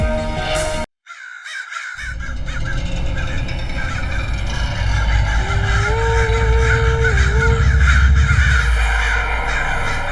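Crows caw steadily and loudly over a dense bed of outdoor noise in a TV serial scene, several birds calling at once for about ten seconds after a brief silent gap near the start.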